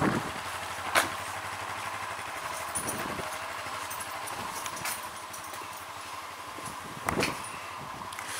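A Honda FTR motorcycle engine idles low and steady throughout, with a couple of sharp clanks and knocks standing out above the constant rumble.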